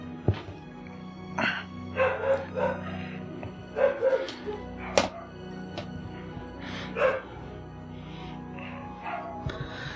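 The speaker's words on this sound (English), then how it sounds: "our dogs like to make a good amount of noise" Dogs in a room bark and yip in short scattered bursts, fairly faint and distant under background game sound.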